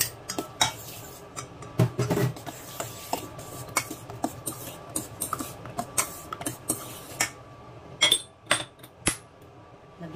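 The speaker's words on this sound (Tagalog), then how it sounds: "Tapos, mix natin yung egg" A utensil beats eggs in a bowl with a steady run of close, light clicks and scrapes against the bowl's side over several seconds, and nobody talks.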